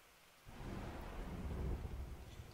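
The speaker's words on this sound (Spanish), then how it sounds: "Está empezando a llover con más fuerza." Thunder rumbles in and heavy rain pours in Mario the Music Box, a video game storm that swells suddenly from near quiet into a loud, steady low roar of downpour.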